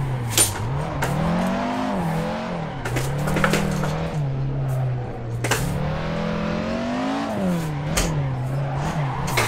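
Race car engine in the Assetto Corsa driving game, a steady loud drone that rises and falls as the car revs and shifts, with brief tire squeal and skid bursts throughout.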